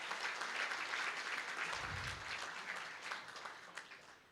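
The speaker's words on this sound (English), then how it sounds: "A big round of applause for the Philips team." An audience at a children's hospital anniversary celebration claps continuously, a dense steady wash of applause heard from within the crowd for several seconds.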